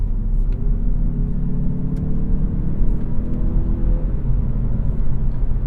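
A 2024 Mazda3 Carbon Turbo hatchback with a 6-speed automatic is driven, steady loud cabin engine rumble and road drone carrying through without a clear break, no talking.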